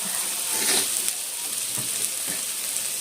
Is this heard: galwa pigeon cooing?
no